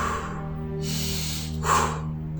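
A voice imitates the sound of breathing, giving two breathy, hissing puffs separated by a short pause over a low steady background hum, close and fairly faint.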